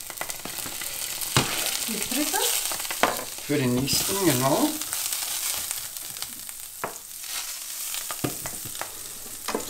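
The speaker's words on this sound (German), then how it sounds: "Ich mache mal eben schnell einen Hauch Butter in die Pfanne." Butter sizzling and frying in a pan before batter for egg pancakes goes in, a steady crackling hiss with occasional scraping and utensil clatter, while a person talks briefly nearby.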